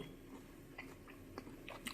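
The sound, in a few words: crunchy chewing of fried chicken wing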